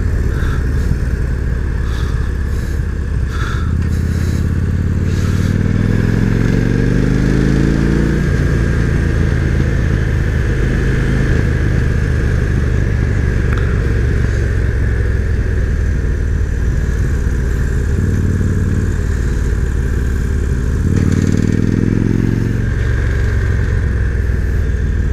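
A cruiser motorcycle ridden through the curves of Deal's Gap, its mid-pitched engine droning steadily close to the rider, with several rising revs as it accelerates out of bends.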